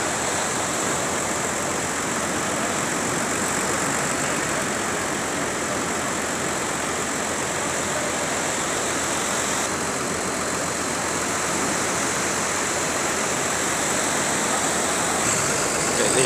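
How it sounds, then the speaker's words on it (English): A loud, continuous tractor engine roar with broadband noise as its turbo kicks in, steady throughout and close, with no talking. "You can hear the turbo kicking in on the tractor."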